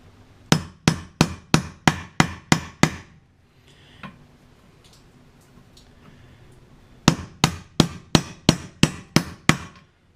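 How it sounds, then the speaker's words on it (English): A hammer strikes a socket to press U-joint caps into a Ford Ranger driveshaft yoke: a quick run of seven sharp metallic taps, a pause with faint shop noise, then another run of seven, close and loud. "I'm going to go ahead and get our socket again, and just start tapping away"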